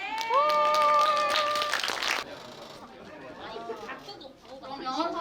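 Audience applause for beginner guitar performers at a small concert, a burst of clapping mixed with whoops and high cheering voices that fades into crowd chatter, with people talking throughout.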